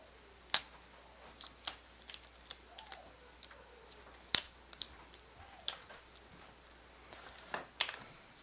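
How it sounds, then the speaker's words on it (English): Tape being peeled off a LiPo battery, heard as a quiet, close series of sharp, scattered ticks and crackles with short gaps between them and no voices. "Alright, so I just took off the tape"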